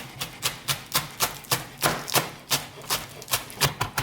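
A knife rocks rapidly through vegetables on a board, finely dicing them for zucchini fritters, with about a dozen crisp, evenly spaced chops that are loud and close, and nobody speaking.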